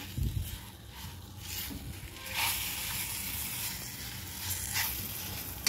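Banana pieces roasting with semolina for shira in a pan give a steady, soft sizzle with light stirring, close and fairly quiet, with no talking.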